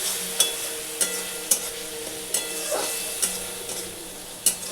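Spice masala for a catla fish kalia sizzles softly in a pan after a splash of water, giving a steady close hiss punctuated by regular sharp clinks of a spoon stirring against the metal.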